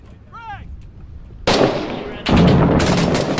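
Grenade blast and gunfire in the Fallujah combat game Six Days in Fallujah: a brief chirp, then a sudden loud explosive burst followed by a second heavy blast with rattling debris-like noise trailing off.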